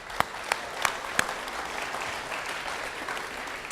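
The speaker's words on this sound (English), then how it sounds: "that's more applause than I've ever gotten in 20 years of ministry" Steady audience applause fills a hall, a few sharp, close claps standing out near the start before settling into an even, continuous patter.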